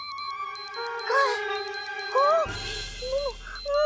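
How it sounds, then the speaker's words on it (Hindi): A warning alarm device chimes above a character's head in a children's fantasy TV show, giving repeated rising electronic tones over a steady hum, with a sharp burst of noise midway. "ये एक चेतावनी यंत्र की आवाज है"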